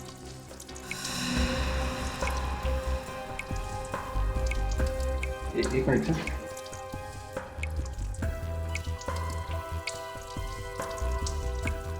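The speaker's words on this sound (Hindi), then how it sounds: "पानी कहां से टपक रहा है" Water drips steadily from a leak in a tense TV crime-drama scene, the drops sounding under dramatic background music while someone briefly speaks.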